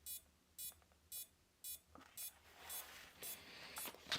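Electronic beeps repeat at a steady pace, about once every half second, crisp and fairly close, with some rustling and handling noise building underneath toward the end.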